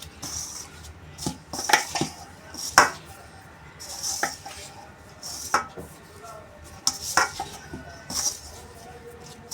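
A spoon knocks and clinks against a bowl while spices are mixed into crushed sprouted mung dough for thepla, giving irregular close clatters, some sharp and loud, with quiet gaps between.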